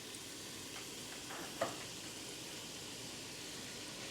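Leeks fry in a pan with a soft, steady sizzle and hiss throughout, a brief stir or clink near the middle, heard close and alone.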